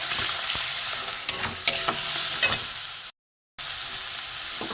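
Salt, turmeric, cumin, coriander and red chilli powders being stir-fried for a spicy bhola fish curry, a strong continuous sizzle with repeated spoon scrapes and stirring knocks, briefly cut to silence.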